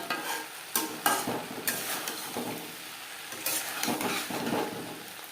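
Okra curry with roasted coriander, cumin, dried chilli, bay leaf and black pepper being stirred in a pan, with irregular close scraping and clacking of the spoon against the pan over a soft sizzle.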